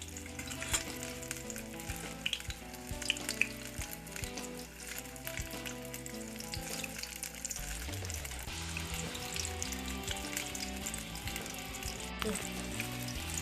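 Bihari parat bharat taruwa fritters pan-fry golden brown with a continuous soft sizzle that sits under steady background music throughout.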